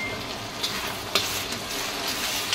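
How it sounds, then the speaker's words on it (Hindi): Onion puree sizzles steadily as it fries in a pan for butter chaap masala, a continuous close crackle with a few brief clicks of stirring. "हमारी प्याज थोड़ी फ्राई हो गई है, अब हम उसमें प्याज की प्यूरी डाल देंगे"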